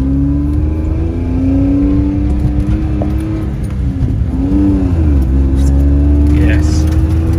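Inside a Citroen C1 with the back seats stripped out, driven on a track, the small engine drones and rises as the car accelerates, with loud steady cabin noise throughout.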